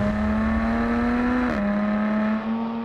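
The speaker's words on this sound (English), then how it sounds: "This, the middle car, the V6S, kind of sounds like a Porsche." A Jaguar F-Type V6 S supercharged V6 engine hums at a steady drone, briefly dipping as the revs shift, then settling back into a smooth, close whir.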